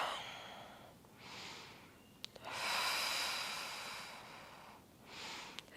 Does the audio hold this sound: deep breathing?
yes